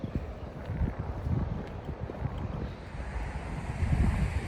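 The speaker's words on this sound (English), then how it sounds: "So windy, guys," Strong wind gusts over the microphone by a lake in a park, producing a continuous low rumbling buffet with rushing air, steady and loud throughout, with no voices.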